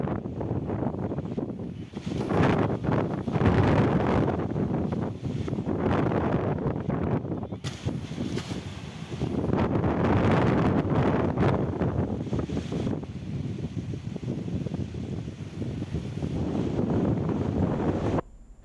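Strong wind gusting across the Varasunadu hill area, a loud continuous broadband roar with buffeting surges against the microphone throughout, and no clear voices.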